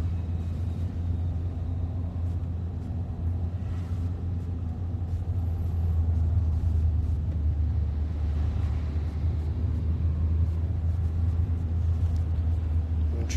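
A car moves along under a steady low engine rumble and road noise for the full length, heard from inside the vehicle, with faint interior sounds and occasional talk.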